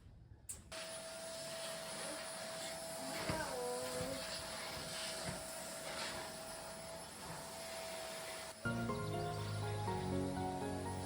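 A new vacuum cleaner runs indoors as a steady, loud motor drone that holds almost unbroken. The whine shifts briefly in the middle and changes character near the end.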